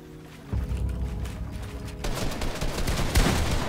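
Rapid bursts of gunfire ring out in a Fortnite match, starting as a dense volley and continuing in loud, overlapping shots with sharp cracks near the end.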